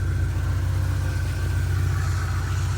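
A 1996 Volkswagen Mk3 car's engine idles with a steady, even low rumble up close, unbroken and with no voices over it.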